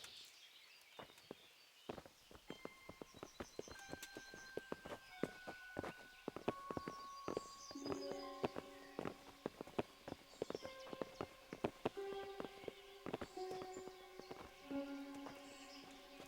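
Several horses clip-clop on hard ground in the medieval game Kingdom Come: Deliverance, with dense overlapping hoofbeats at a walking pace, fairly close, and tack jingling throughout.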